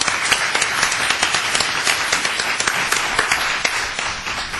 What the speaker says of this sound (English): let's give a round of applause for all of our panelists